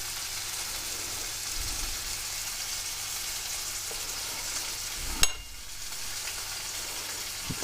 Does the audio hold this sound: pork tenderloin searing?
yes